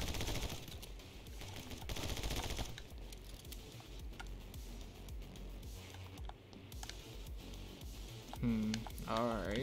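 Rapid Uzi bursts from a video game rattle continuously at moderate level, dense automatic fire layered with game sounds and effects throughout.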